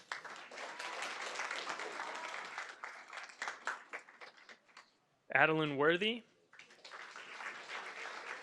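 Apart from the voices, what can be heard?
applause at a school board meeting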